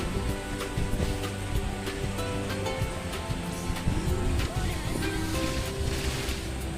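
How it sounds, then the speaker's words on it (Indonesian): Swirling whirlpool waves churn in the sea-prisoner battle of the video game NTE, a dense, steady roar of surging water layered with game effects that continues loud throughout. "ngindarin gelombangnya ya pusaran air"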